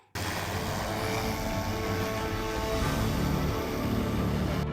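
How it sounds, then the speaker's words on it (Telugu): A steady mechanical whirring hum of a drone carrying water and food to stranded shepherds, constant and loud throughout after a sudden start. "అగో డ్రోన్ తోటి నీళ్లు తిండిని ఎట్లా పంపిస్తున్నారో సూడురి"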